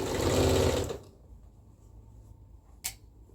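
A sewing machine runs steadily while stitching a bodice with ruffles, inset and lining, a dense close whir for about a second before stopping, followed by quiet room tone and a single sharp click.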